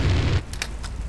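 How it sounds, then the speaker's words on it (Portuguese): A flamethrower in GTA fires a short, loud roaring blast of flame up close, cutting off after a fraction of a second into a crackling tail with a few sharp pops. "O áudio da chama"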